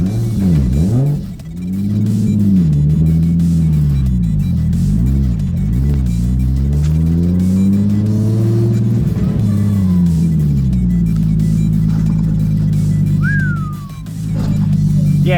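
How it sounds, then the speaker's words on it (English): A tuned Nissan Skyline R32 making about 350 kW accelerates on the street, its engine note rising and falling through the gears in a loud, close in-cabin roar, with a brief dip in between and a faint whistle near the end. "Just casually street driving Skyline."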